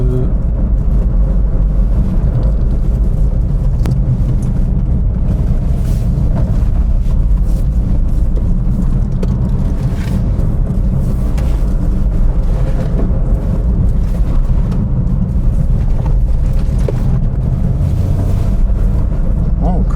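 A second-generation Suzuki Swift ZC71S 2WD hatchback running downhill on a winding road, with steady, loud engine drone and road and wind rumble sustained throughout, close to the microphone.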